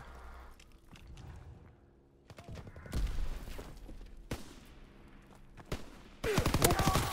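Gunfire in a first-person shooter video game: scattered single shots and short bursts, some distant and some close, with louder dense volleys near the start and again at the end.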